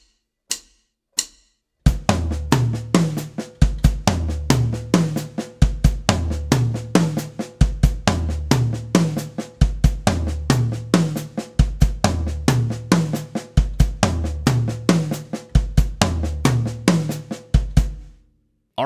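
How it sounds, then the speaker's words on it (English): Drum kit phrase in an offset triplet sticking, two soft ghost notes on the snare followed by a kick, repeated in a steady looping groove after a few isolated opening hits. "So two ghost notes and a kick."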